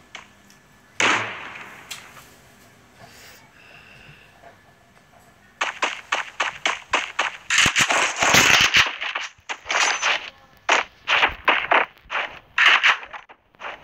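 Gunfire including shotgun blasts in the video game Free Fire: after a single early shot, a rapid string of sharp cracks and bursts fills the second half, loud and clustered.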